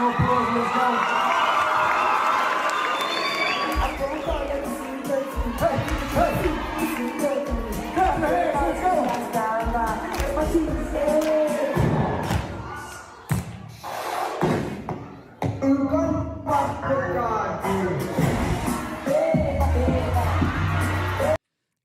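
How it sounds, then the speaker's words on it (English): A crowd cheers, whoops and shouts for a performer who is dancing, with bursts of clapping and thumping, and the noise rises and falls across the span as voices call out. "Give him another round of applause"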